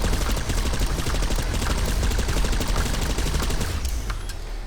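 Rapid bursts of video game gunfire hammer steadily into a training dummy's head, loud and close with a dense, continuous rattle and no talking.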